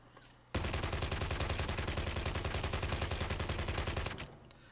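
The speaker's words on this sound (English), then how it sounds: "just start shooting walls." Automatic gunfire from a weapon shooting at walls in COD Mobile, heard as one continuous rapid burst of loud, evenly spaced shots lasting about four seconds.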